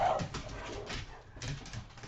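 Dogs whimper and give short yips and barks, fairly close, over a steady indoor background with no talking.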